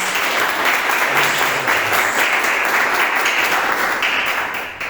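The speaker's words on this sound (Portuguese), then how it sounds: "Dê uma salva de palmas para Deus," Church congregation applauding during a communion service sermon: dense, sustained clapping from many hands, loud and even throughout, tapering slightly at the very end.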